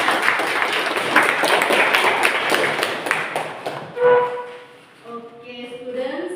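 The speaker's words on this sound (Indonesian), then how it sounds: "tepuk tangan untuk Misha" A classroom of students claps for a classmate named Misha, a dense burst of applause lasting a few seconds that then gives way to a teacher speaking.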